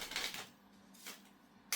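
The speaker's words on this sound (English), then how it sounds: "as I shuffle the cards" A stage magician shuffles a deck of playing cards during a live comedy magic show at the Edinburgh Fringe, giving two or three short papery riffles and flutters separated by brief pauses, close and fairly quiet.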